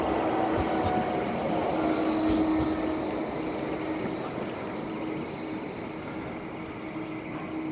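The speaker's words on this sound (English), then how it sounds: "there goes the tram." A tram passes along Lord Street in Fleetwood at night, a steady broad rumble with faint tonal whine holding for several seconds before easing slightly, no talk over it.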